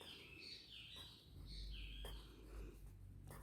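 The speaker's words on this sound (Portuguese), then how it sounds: "Os pássaros estão felizes hoje." Small birds chirp and trill on and off in the background, with faint high calls over a steady low ambient rumble and no talking.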